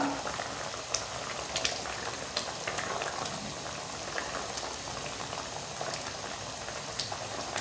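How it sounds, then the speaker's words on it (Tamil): Tamarind kuzhambu gravy boils at a steady, close bubble while boiled lentil balls are dropped in one by one. Faint scattered plops sit over the continuous simmer. "இந்த ஸ்டேஜில் நம்ம வேக வச்ச உருண்டைங்களை ஒன்று ஒன்றா இதில் போட்டுக்கலாம்."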